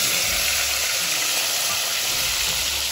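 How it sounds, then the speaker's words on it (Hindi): Tomatoes frying in a pan, a steady dense sizzle and hiss held close throughout with no talk. "टमाटर है, मैं फ्राई कर रही हूँ,"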